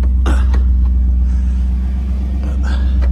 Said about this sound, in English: Let me actually start the car first.